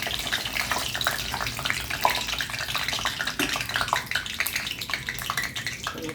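Whole spices and cumin sizzle in hot oil in a pan for a pulav, a steady bright crackling hiss with scattered pops, close and continuous with no talk.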